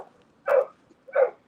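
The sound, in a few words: dogs barking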